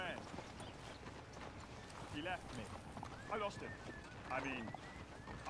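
Horse hooves clip-clopping in the Red Dead Redemption 2 video game near a town sheriff's office, a soft running rhythm of hoofbeats under people talking, with game sounds around.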